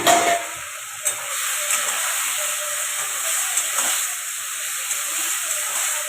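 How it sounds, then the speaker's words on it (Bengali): Ground mustard and chili paste for a pomfret fish curry hitting a hot pan with a sudden burst, then settling into a steady hissing sizzle that stays close and even. "বেটে রাখা সরষে লঙ্কা বাটা।"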